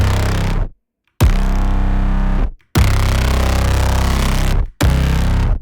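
A heavy, distorted trailer synth braam made in Serum 2 blasts in three long bursts separated by short silences, loud and gritty with a dense low end.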